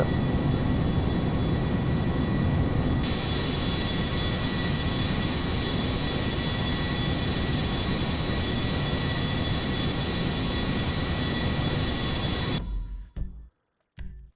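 A Boeing 747 airliner flying in GTA 5 gives a steady, loud, broadband jet roar that holds without a break for about twelve seconds and then cuts off suddenly.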